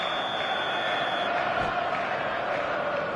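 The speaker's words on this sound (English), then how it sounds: "the matchday noise at this place is truly special" Steady stadium crowd roar in the football video game eFootball PES 2025 on a clear evening matchday, a dense continuous murmur that swells slightly midway, with no clear cheers standing out.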